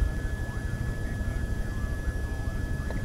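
Helicopter in the ArmA 2 military video game, a steady distant rotor and engine drone with a faint high whine running throughout at low level.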